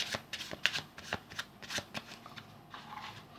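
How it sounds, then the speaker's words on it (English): A packet of playing cards is shuffled by hand in a series of quick, crisp riffling bursts at close range. The sound is quiet, with no talking. "You can now give these cards a shuffle"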